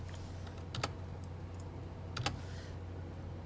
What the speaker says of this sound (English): I'm watching what you're typing.